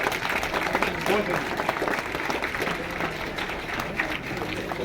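Group of children applauding together at a gathering, a dense continuous patter of clapping with a crowd murmur mixed in, moderately loud and steady throughout.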